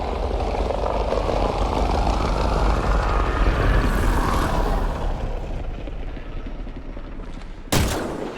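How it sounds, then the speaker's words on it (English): A hostile shuttle flies in during a Mass Effect Andromeda sci-fi shooter battle: a loud, sustained engine roar fills the scene under gunfire, ending with a sharp burst near the end. "Hostile shuttle incoming."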